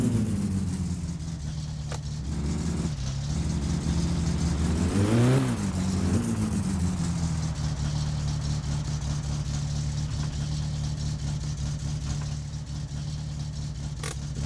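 Loud unmuffled car engine in My Summer Car revving up around the five-second mark over a steady rough idle, close and continuous throughout with no talking.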